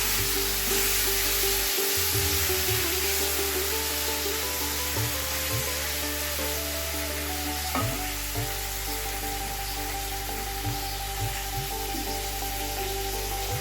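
Hilsa fish pieces frying in hot oil tempered with green chillies and nigella seeds, giving a steady, close, continuous sizzle with a faint low hum underneath and no talking.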